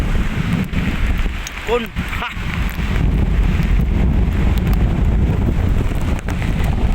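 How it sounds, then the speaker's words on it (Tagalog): Strong typhoon wind roars steadily across the microphone in loud, buffeting gusts at Manila Bay, with a brief shout from a person partway through. "So napakalakas po ang hangin ito mga kagros"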